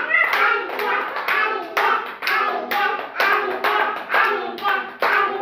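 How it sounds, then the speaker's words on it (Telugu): Children clap for a boy named Aditya during indoor play, a quick, fairly even run of close, sharp handclaps lasting several seconds with little talk. "క్లాప్స్ కొట్టండి ఆదిత్యకు కూడా."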